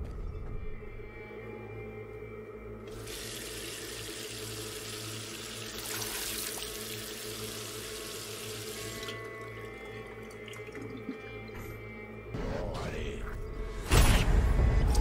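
Running water from a bathroom sink tap in the Cyberpunk 2077 video game, a steady hiss over several seconds amid game background ambience, with a louder clatter near the end.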